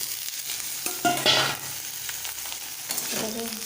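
Eggplant, potato and tomato with onion and cumin are stirred in a sizzling pan for a chapila fish dish, the spatula scraping in short bursts over a constant frying hiss, with no talk.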